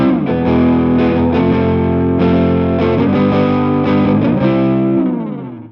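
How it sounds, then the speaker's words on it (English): A distorted electric guitar riff played through an Axe FX 3, with a delay set too loud so sustained repeating echoes swamp the gritty tone, steady and loud before fading out at the end, no talking. "the delay is overpowering the distortion and it's not sounding very good."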